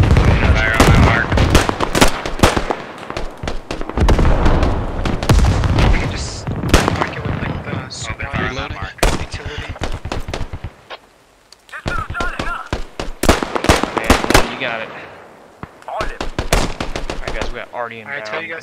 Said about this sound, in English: Artillery coming down.